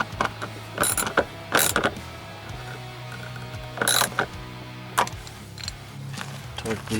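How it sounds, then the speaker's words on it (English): Socket ratchet working a rear strut bolt on a 2000 Toyota Camry XLE 3.0L V6, giving several short bursts of clicking and metallic clatter over a steady low hum, close by and fairly quiet, with talk between the bursts. "12mm socket and ratchet for this."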